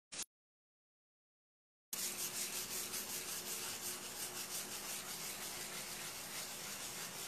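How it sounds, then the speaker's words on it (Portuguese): Sandpaper rubs steadily over a biscuit-textured gift box using 1000-grit paper, a close, continuous scratchy hiss with rhythmic strokes after a brief silence. "A gente passa lixa mil, ela parece que é um negócio super liso"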